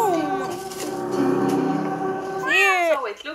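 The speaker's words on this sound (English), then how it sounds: "Cat." A cat meows in long, drawn-out wails, one extended cry followed by a sharper rising and falling call near the end, close and loud.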